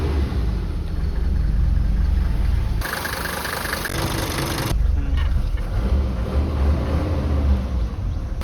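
Car engine fitted with a new oil pressure switch after an oil leak, idling steadily and then revving hard for a couple of seconds before dropping back to a rough, knocking idle, heard up close.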